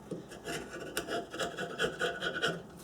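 A steel chisel scraping old gasket material off the mating surface of a Nissan oil pan, heard up close as a steady run of short rasping strokes with no talking.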